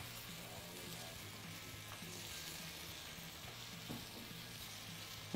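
Chicken pieces for chicken piccata with mushrooms fry in a pan with a steady, close, dense sizzle that holds evenly throughout, with no talking over it.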